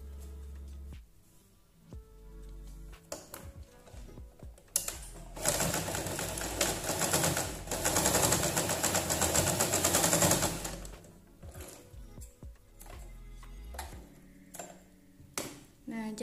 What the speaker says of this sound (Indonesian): lalu kita jahit lebih besar dari jahitan yang tadi supaya jahitan tadi tidak terlihat